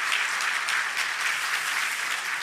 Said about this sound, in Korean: 두 분 축복의 박수 한번 해주시면 좋겠습니다.